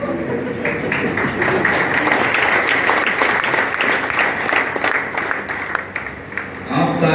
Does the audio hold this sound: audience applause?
yes